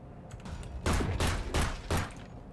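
Bursts of video game gunfire in a horror shooter, four heavy volleys of rapid shots spaced about a third of a second apart, loud and close with no talking over them.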